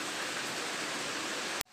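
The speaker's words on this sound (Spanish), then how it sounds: "Creo que escuchan la lluvia, aquí no ha parado de llover" Steady rain falls outside during a storm, a dense even hiss that runs unbroken and fairly loud before cutting off abruptly near the end.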